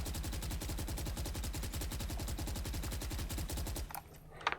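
Sustained automatic gunfire spray in the Valorant video game, one rapid, even burst of shots close and loud for about four seconds, stopping abruptly before a couple of faint clicks.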